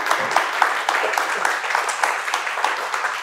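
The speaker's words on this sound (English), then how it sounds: "I just wanted to say a big round of applause for Mel," Dense audience applause at an evening talk in Melbourne, many hands clapping steadily for about three seconds with a faint murmur mixed in.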